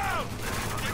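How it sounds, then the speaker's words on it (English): Video game gunfire from Spec Ops The Line, a loud, dense burst of shots that carries through the whole second with faint game noise beneath and no talking. "I just shot all those bullets and none of those hit"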